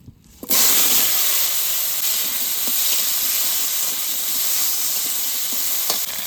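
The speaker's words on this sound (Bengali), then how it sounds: "এবার মাছ ভাজার তেলে আলুটা একটু ভেজে নেব" Potatoes drop into leftover fish-frying oil with a sudden loud hiss. A steady, close sizzle follows and keeps going, with faint stirring scrapes and no talk.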